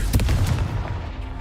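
A Confringo fire-blast spell goes off in the video game Hogwarts Legacy as a loud, booming burst with a rumbling tail that fades over about a second.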